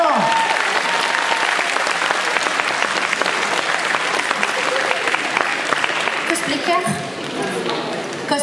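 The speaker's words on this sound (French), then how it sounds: "on applaudit bien fort" An audience at a cosplay contest applauds a presenter's introduction of a jury member, sustained dense clapping filling a hall, with voices over it and a slight drop near the end.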